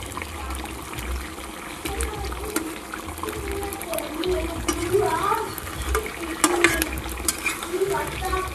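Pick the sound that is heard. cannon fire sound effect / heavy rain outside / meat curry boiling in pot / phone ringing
meat curry boiling in pot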